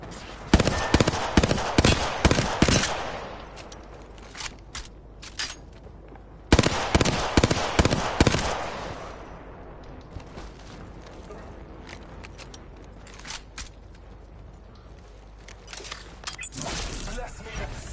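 Gunfire in the Apex Legends video game comes as loud rapid bursts of automatic shots in two clusters, then thins to scattered cracks and mechanical clatter while a voice speaks.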